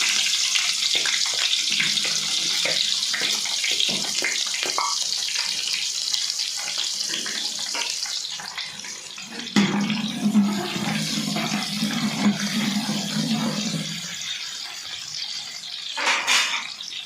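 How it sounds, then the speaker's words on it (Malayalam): Water runs and splashes steadily into yogurt for buttermilk curry, with a fuller pouring stretch near the middle, and light clatter from dishes around it. "എടുത്തു വെച്ച തൈരിൽ നമ്മൾ ആവശ്യത്തിന് വെള്ളം ചേർക്കും"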